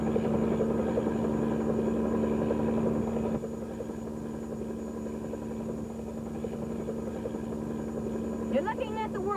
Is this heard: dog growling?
no